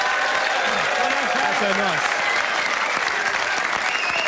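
Loud, sustained audience applause fills a comedy show studio after a comedian's set, dense clapping throughout with a brief spoken remark over it.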